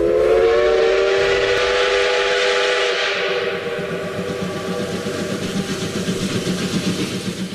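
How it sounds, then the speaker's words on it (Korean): A loud train whistle blows in a long sustained tone while the rumble and clatter of a special train arriving at Harbin Station builds beneath it. "이토 히로부미가 탄 특별열차가 드디어 하얼빈역에 도착하는데,"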